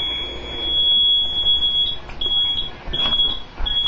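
A fire alarm panel in trouble mode gives repeated high, piercing electronic beeps in short bursts, loud and close, over a low background rumble.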